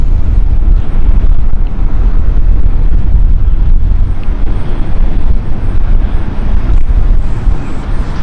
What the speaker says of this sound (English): Okay, Palmer flight taking off here